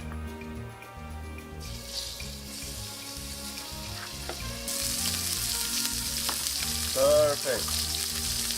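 Beef trimmings sizzle steadily as they brown in olive oil in a pan over medium-high heat, a continuous frying hiss that grows brighter partway through, with occasional stirring clinks and a brief spoken word.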